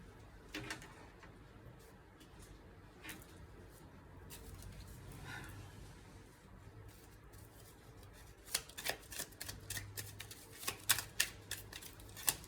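Tarot cards being shuffled, faint soft riffling and flicking in a quiet room, with a burst of sharper card snaps toward the end.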